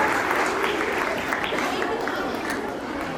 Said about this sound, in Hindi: आपकी तालियों की गड़गड़ाहट बनी रहेगी